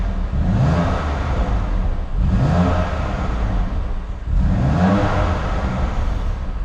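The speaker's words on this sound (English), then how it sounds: "give the car a little rev, let you hear what it sounds like" A cold BMW M2 Competition's S55 twin-turbocharged straight-six engine is revved three times in a row. Each rev is a short, rising, loud blip that settles back toward idle between the pulses.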